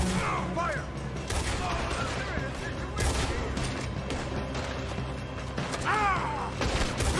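Video game gunfire, bursts of rapid shots and clattering mechanisms over a busy mix, with someone shouting urgently now and then.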